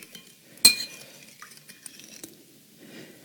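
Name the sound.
stirring yeast mixture for vegan pizza dough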